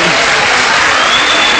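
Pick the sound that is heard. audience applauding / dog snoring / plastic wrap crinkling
audience applauding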